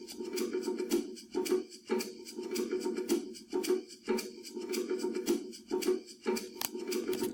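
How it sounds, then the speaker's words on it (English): Maracas panned left and bongos panned right play layered GarageBand groove loops, a quiet, steady shaking rhythm with regular drum hits throughout. "pan the maracas out to the left, the bongos out to the right, and the combination of them sounds like this"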